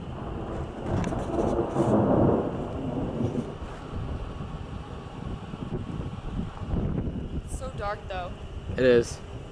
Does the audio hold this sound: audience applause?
no